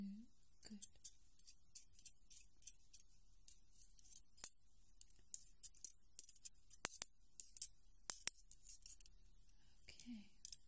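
Soft ASMR scissor snips and light clicks used for smoothing come in irregular bursts, close and quiet against near silence, with faint whispering in places.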